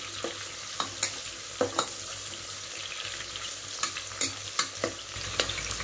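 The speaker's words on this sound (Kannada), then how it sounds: "ನೋಡಿ ಈರುಳ್ಳಿ ಸ್ವಲ್ಪ ಫ್ರೈ ಆಗ್ತಾಯಿದೆ." Onions frying in a pan, a soft continuous sizzle broken by repeated sharp scrapes and taps of a spoon stirring, close and moderately quiet with no voices.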